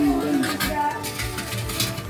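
A soapy copper pot is scrubbed by hand at a home sink, giving continuous close rasping and scouring strokes with light clinks of metal.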